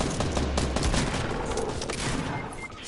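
Assault rifle gunfire in the video game Fortnite crackles in a dense, loud burst of rapid shots that runs almost the whole time without pause.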